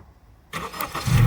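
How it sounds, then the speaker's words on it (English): A 10th-generation Honda Civic engine starts remotely, a sudden near crank that catches after near-silence and settles into a loud, steady idle rumble. "boom, just like that, it is remote started"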